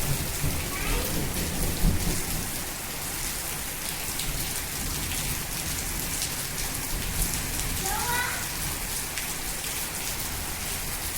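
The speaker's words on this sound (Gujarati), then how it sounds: "જો ગાજે સંભળાય છે" Heavy monsoon rain pours steadily in Gir, Gujarat, with a dense hiss, while thunder rumbles low underneath.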